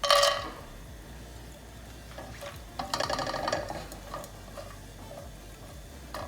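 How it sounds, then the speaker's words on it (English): Cashew nuts frying in ghee give a soft, low sizzle in a close pan, with a burst of crackle at the start and later a few light stirring clatters. "I've just added little ghee now to fry these cashew nuts."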